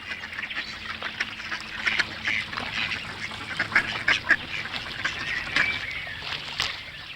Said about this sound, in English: There were several ducks swimming about, and they came rushing up for the bread which Ragdolly Anna threw to them.